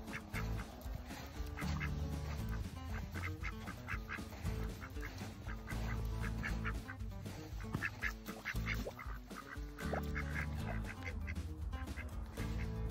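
Domestic ducks being put onto a lake for the first time quack repeatedly in a busy, overlapping chorus of short nasal calls, fairly faint and steady throughout.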